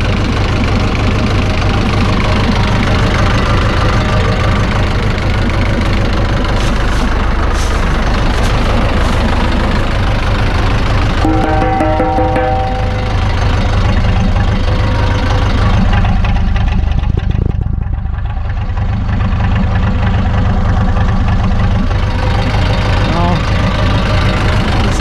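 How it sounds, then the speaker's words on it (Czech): A tractor idling with a damaged exhaust whose inner baffle has broken apart, giving a loud, steady, deep bubbling engine rumble close by that runs throughout with a voice talking over it. "Tak buble ten výfuk."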